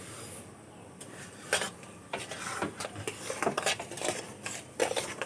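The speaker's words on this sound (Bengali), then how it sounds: "খুব ভালো করে আমি মিশিয়ে নেব।" A spoon scrapes and clinks around a bowl while sugar is stirred into a raw green mango mixture, the close, uneven strokes repeating in quick bursts.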